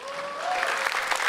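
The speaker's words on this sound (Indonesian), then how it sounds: "Tepuk tangan dulu dong." A stand-up comedy battle show audience breaks into loud, full applause, a short continuous burst of many hands clapping together.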